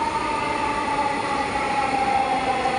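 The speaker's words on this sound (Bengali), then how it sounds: "আমার গন্তব্যের ট্রেন এসে গেছে" A metro train arrives at a station with a steady, loud rumble of wheels and motors, a sustained hum with a faint whine running through it and no voices.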